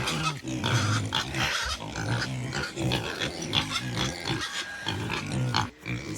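Pigs grunting and snuffling close by as they push dirt around, a dense, continuous run of rough low grunts and rustling with no talk.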